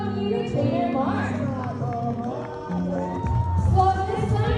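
Audience at a bird show cheering and whooping, a lively crowd swell that rises and falls over a few seconds with voices shouting, loudest near the end.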